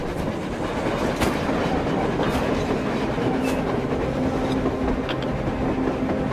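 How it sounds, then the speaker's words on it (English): A train rolls along on the surface in the video game Metro Exodus, a continuous rumble with rhythmic clickety-clack of wheels on rails, moderately loud and steady with no one speaking. "A train! A damn train on the surface!"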